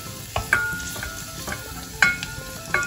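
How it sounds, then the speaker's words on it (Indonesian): Onion sautéing in a pan for a baby-food dish gives a steady close sizzle, broken every half second or so by the light clinks and scrapes of stirring, with no talking. "Kita tumis sampai harum."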